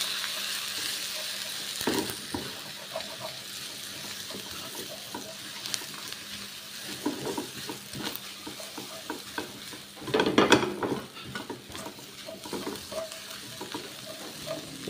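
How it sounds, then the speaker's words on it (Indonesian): Sweet leaf greens cooked with egg are stirred in a pan, with a steady soft sizzle and a scraping of the utensil throughout, rising to a louder clatter near the end; no talking. "Dan kita gaulkan. Kemudian kita masukkan telur."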